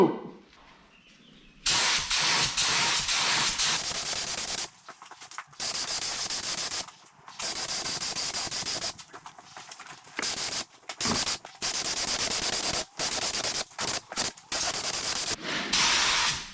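A second coat of spray paint goes onto car wheel covers in a run of close, hissing spray-can bursts separated by short silent pauses.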